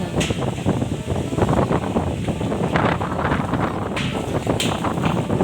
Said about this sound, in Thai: วันนี้ลมก็ แรงด้วยนะคะเนี่ย